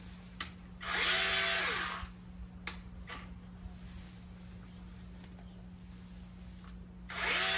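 A Vanpore mini chainsaw cuts through a bunch of plant stems, its small motor giving a brief whirring burst and then a second one several seconds later, over a steady low background hum.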